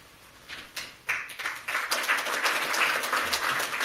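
Audience applause at an Air Force retirement ceremony starts as scattered claps and quickly builds into sustained, fairly loud clapping from a crowd, with no talk over it.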